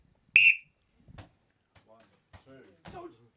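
A sharp, loud whistle blast starts a timed challenge at a football-themed event, followed by scattered voices and knocks in a quiet room.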